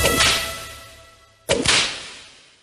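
Whip lash sound effects in a scourging scene during a Lenten Stations of the Cross, two sharp, loud cracks about a second and a half apart, each with a quick swish and fading tail.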